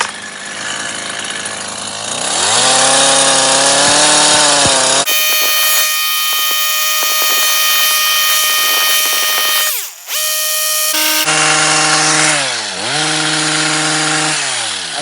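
A power hedge trimmer cuts a shrub, its motor whining loud and close, dropping and rising in pitch as it bites into the branches, with no talking.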